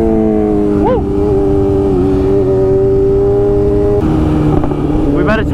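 BMW S1000RR motorcycle engine droning loudly at steady speed while riding, with a short rising rev and gear shifts, voices talking over the close, continuous engine.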